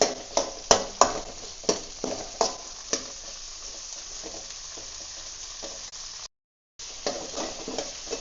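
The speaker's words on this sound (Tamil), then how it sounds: "வெங்காயம் நல்லா வதங்கின பாரு" Onions sauté in a pan while being stirred for a Tamil pongal and brinjal sambar, a steady close sizzle broken by sharp clinks of the spoon against the pan, with a short drop to silence near the end.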